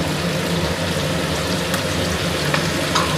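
Garlic and onion paste sizzles steadily in a pan over a high gas flame, its moisture making a dense, even crackle that fills the whole stretch close-up, with no talking.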